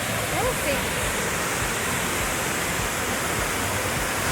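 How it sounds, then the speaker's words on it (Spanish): Steady roar of a waterfall in Cuba heard from a viewpoint, a dense, unbroken rush of falling water filling the whole background at a moderate level, with no voices over it. "Parece que aquí tenemos la mejor vista de la cascada"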